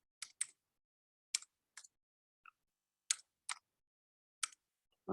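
Card details typed on a computer keyboard, sharp isolated clicks in small pairs and singles with pauses between them, close and clear in an otherwise silent room.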